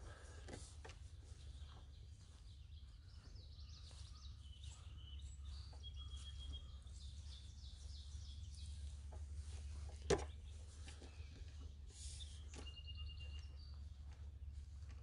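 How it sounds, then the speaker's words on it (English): A black-capped chickadee calls its chickadee-dee-dee far off at Landis Arboretum, thin and faint over a low steady hum, with other soft bird notes and one sharp knock. "There's a chickadee going chickadee-dee-dee-dee off in the distance."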